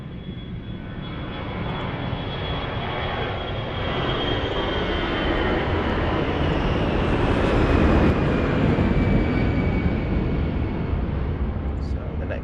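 A TAP Express airliner at Lisbon Airport gives off a sustained engine roar that swells gradually and holds loud, with a faint high whine running through it.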